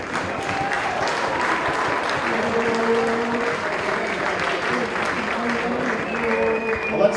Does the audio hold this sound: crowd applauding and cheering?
yes